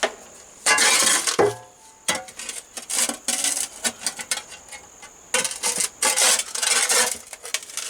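A scraper grinds dirt off a concrete footer in repeated rough, rasping strokes, loud and close, with short pauses between bursts.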